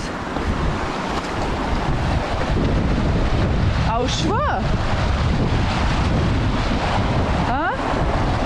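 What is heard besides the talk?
mountain river flowing water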